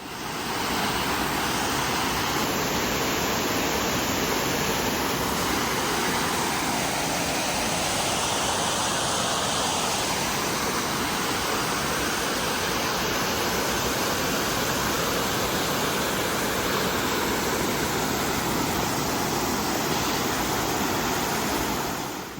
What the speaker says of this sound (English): Big old waterfall over there.